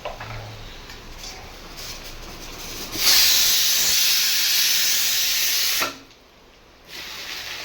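Leafy greens hit hot oil with onions in a pan, setting off a loud burst of sizzling hiss that lasts about three seconds before cutting back to a quieter frying crackle.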